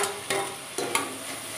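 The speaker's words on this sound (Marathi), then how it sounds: "तर इथे व्यवस्थित मी हे व्यवस्थित मिक्स करून घेते। आणि आता आपण ह्याच्यामध्ये टाकणार आहोत हे टोमॅटो।" A spoon scrapes and stirs a sizzling pav bhaji vegetable mixture with tomatoes in a pan, with three distinct scraping strokes over a soft background fry.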